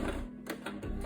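Sewing machine back stitching in quick rhythmic bursts of close mechanical whirring and clatter, brief and alone without talk.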